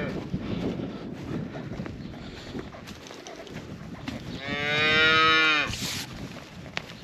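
A cow moos once, long and loud, close to the microphone during an emergency calf pull on a farm, while steady wind rumbles behind it.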